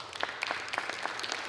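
Scattered clapping from a group in the House chamber, honoring police officers; a brief burst of uneven claps at moderate distance with no voices on top.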